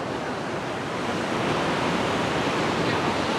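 Steady wash of sea waves breaking on the shore in the early morning, a continuous broad roar that swells slightly toward the end, with no voices.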